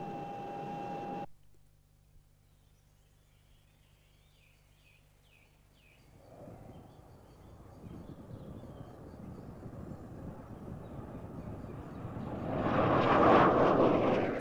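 An aircraft flying toward a target area gives a low, distant engine drone that gradually builds and grows louder toward the end, after a brief tone at the start.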